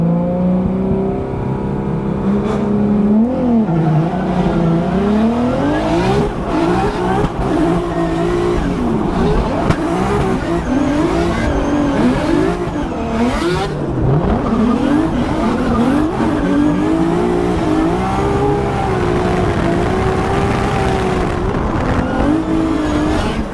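Formula Drift race car at an STL event, engine roaring loud and continuous with revving swells and screeching tire squeal as it holds a drift angle throughout.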